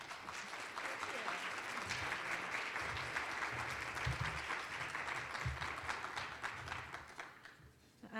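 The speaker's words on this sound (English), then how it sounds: "A big round of applause" Steady audience applause at a hunger-relief opening event fills the room for several seconds, a broad wash of clapping with some low thumps underneath, thinning briefly near the end.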